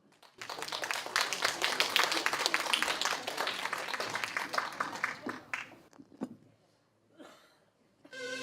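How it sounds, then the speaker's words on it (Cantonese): Concert audience applauding to welcome a female solo singer at the Knox Community Arts Centre, a dense burst of clapping that runs for several seconds, then thins into scattered claps and quiet before a brief swell at the end. "請掌聲歡迎"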